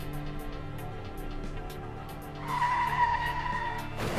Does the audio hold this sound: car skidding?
yes